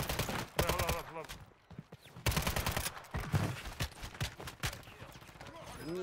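Rapid gunfire from a weapon in the video game Warzone 3 Resurgence, bursts of shots crackling amid busy battle noise, with players talking over the shooting.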